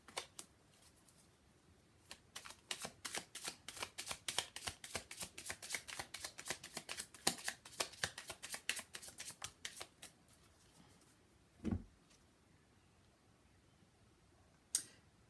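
Tarot cards being shuffled in a fast, steady run of crisp riffling flicks, followed by a few isolated soft taps as cards are drawn, close and fairly quiet with no talk.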